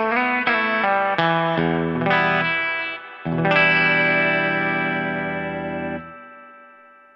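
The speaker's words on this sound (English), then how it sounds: "Here is the long reverb that I've set." Electric guitar played through a True Spring Reverb set to a long reverb, a run of bright twangy plucked notes and then a sustained chord that rings out and decays slowly in a wash of spring reverb.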